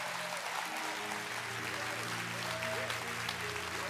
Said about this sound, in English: give the Lord another hand clap of praise in this house